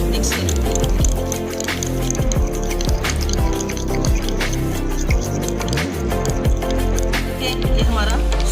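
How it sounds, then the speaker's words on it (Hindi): Chili garlic sauce and mayonnaise being stirred together in a bowl, giving wet squishing and dripping sounds at close range, steady throughout with soft clicks over a constant background. "देखिए चिली गार्लिक सॉस लिया हमने और साथ हमने मायोनीज लिया। अब हम इन दोनों चीज़ों को मिक्स करेंगे।"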